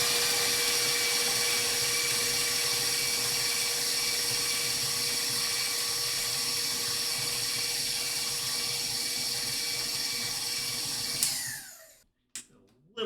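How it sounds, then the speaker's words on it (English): A stand mixer running on its creaming speed beats an egg into whoopie pie batter, a loud steady whirring motor that cuts off abruptly near the end, followed by brief clatter. "we're going to beat that egg again just till it's blended. So I'm going to do that on the creaming level again."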